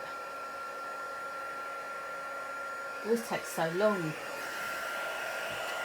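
A heat tool melting embossing powder on a card blows with a steady whirring hiss throughout, while a voice briefly speaks over it.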